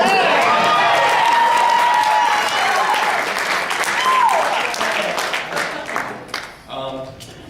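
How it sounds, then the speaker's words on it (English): Wedding guests clap and cheer loudly and continuously during a best man speech, with whoops rising above the applause before it thins out near the end. "Woo! That's a cheer, everyone."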